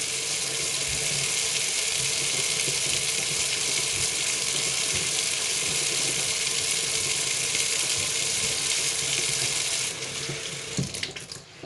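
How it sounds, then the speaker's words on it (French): Tap water pours steadily into a sink in a workshop where glaze is being mixed, a loud continuous hiss that runs unbroken before easing off and ending with a few clatters. "il faut toujours faire couler beaucoup d'eau pour ne pas bloquer votre siphon."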